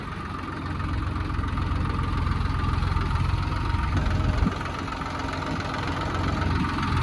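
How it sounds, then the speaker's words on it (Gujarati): A JCB excavator runs in a farm field with a continuous low, rumbling engine drone at moderate distance, steady throughout with no speech. "જો સામે જેસીબી હાલે હે"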